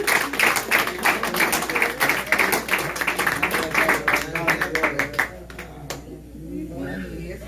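A church congregation breaks into rhythmic clapping and applause over loud music, dense and steady for about five seconds before fading, with a preacher's voice heard alongside.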